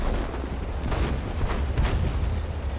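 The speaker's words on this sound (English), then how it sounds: "I was firing and then reversing to hide while I was reloading" Tank cannon shots from a T26E4 Super Pershing in the World of Tanks video game, heavy booming blasts repeating over a rumbling low-end bed, loud and dense across the short stretch.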